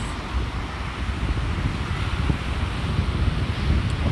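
Steady rushing ocean surf and gusting wind at a beach, a continuous broad roar with wind buffeting the microphone throughout.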